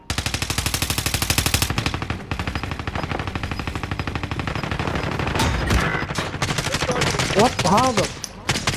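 Rapid automatic gunfire in Call of Duty: Modern Warfare, a dense burst of shots that runs for several seconds, then scattered bursts and in-game effects while players talk briefly over it.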